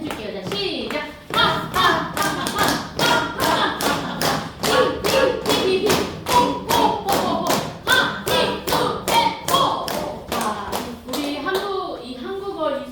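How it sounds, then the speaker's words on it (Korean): A group in a healing class claps hands while tapping the tops of their feet together, making a steady, even beat of sharp claps and soft thuds, about two per second, loud and close, with a brief pause near the end. "이번에는 발도 여기 발등을 좀 쳐보세요. 같이 박수 치면서 발등 여기 발등을 마주치면서"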